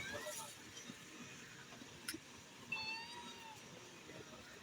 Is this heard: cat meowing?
yes